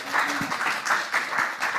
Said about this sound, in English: give a huge round of applause to James